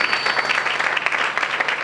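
A church congregation claps and cheers in praise of Jesus Christ, dense steady applause that fills the room at moderate loudness, with no talk over it.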